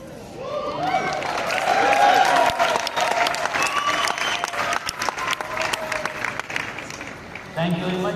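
An audience claps in sustained applause that swells and then tapers over several seconds, with a voice talking over and after the clapping.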